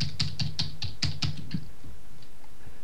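Rapid keyboard typing, a quick run of about eight clicky keystrokes that thins out into near silence, with no one speaking.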